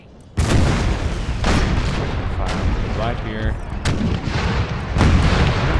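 Cannon artillery in an Empire: Total War American Civil War mod thunders in heavy, booming volleys, several loud reports rolling one after another over dense battlefield rumble.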